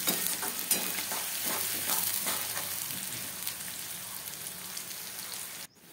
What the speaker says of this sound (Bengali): সেই জন্য আমি পেঁয়াজটাকে একটু ভালো করে ভেজে নেব